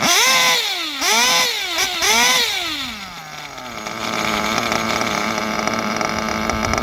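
Sharp revving bursts from a small, whiny nitro model engine during break-in rise and fall a few times, then settle into a steady, buzzing idle close by.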